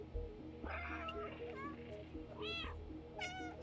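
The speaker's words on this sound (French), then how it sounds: "j'ai une touche, j'appuie et je miaule." A cat meows in the video game Stray. Two bright meows come in quick succession near the middle and end, over a steady game soundtrack with low musical tones.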